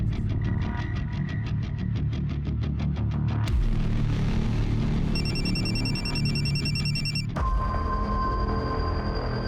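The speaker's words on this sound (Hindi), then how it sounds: "किसका फोन है?" A telephone rings in rapid repeated bursts, then further electronic ringing tones follow over a steady background hum, loud and near, with no voices.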